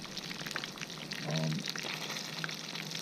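Panfish frying in a cast iron pan, a steady dense sizzle and crackle throughout, close and fairly loud, with a brief low hum or voice-like tone midway.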